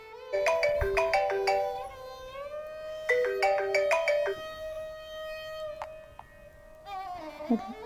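A melodic electronic phone ringtone plays in two repeated musical phrases, followed by a sustained tone and a brief chirping sound at the end.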